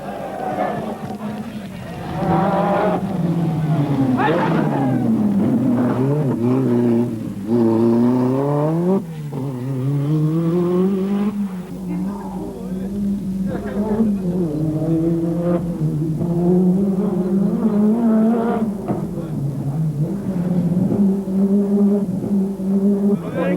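A Renault 5 Turbo rally car's engine revs up and down in repeated swells, loud and close, under a narrator's voice.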